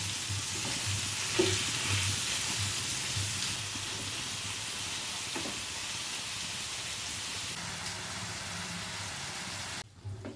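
Prawns frying and being spread out in a pan for Kerala-style prawn pickle, a loud continuous close sizzle with a few faint stirring knocks, cutting off abruptly at the end.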